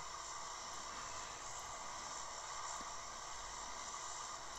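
Constant airplane engine drone inside a video game played on a budget Android tablet, a faint, even hiss-laden hum that holds steady throughout with no talking.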